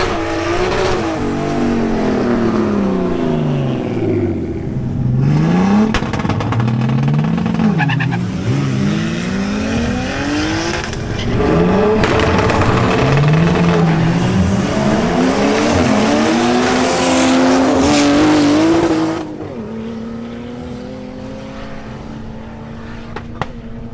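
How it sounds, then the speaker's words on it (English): A BMW M240i xDrive and a BMW 325i launch side by side at a drag race. Engines rev hard through several rising gear sweeps, tires squeal loudly, and the noise fades at the finish. "The next matchup is between Sebastian Sepulveda in his BMW M240i xDrive and Leonardo Lillo in his BMW 325i"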